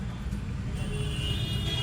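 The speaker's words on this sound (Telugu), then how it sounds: "ఫుల్ ట్రాఫిక్ జామ్ అయిపోతుంది." Road traffic crawls through a jam, heard as a low, steady engine rumble and road noise from surrounding vehicles, with a faint higher whine near the end.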